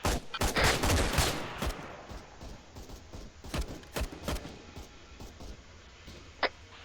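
Video game gunfire during a mission breaks out in dense overlapping volleys of close, loud shots, then thins to scattered single reports with one sharp crack near the end.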